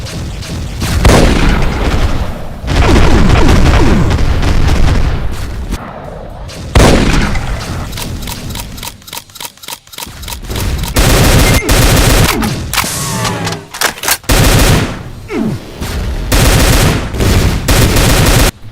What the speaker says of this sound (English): BFG 10K shots. Standard Devastator shots.